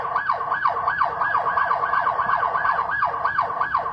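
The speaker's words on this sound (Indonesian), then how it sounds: "Jadi kita bisa membunyikan sirine dan keluar dari kamera." A Tiandy TC-H2 CCTV camera sounds its built-in siren: a loud, steady run of rapid rising-and-falling electronic wails that repeat evenly, heard alone with no talking.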